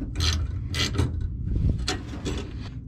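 Short metallic ratcheting and clicking as gauge mount bolts are tightened down in front of a car's T-shifter, several quick close bursts of rasping clicks with soft thuds between them.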